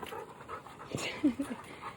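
Dogs pant close by with quick, breathy rhythms, and short high whimpers break through near the middle.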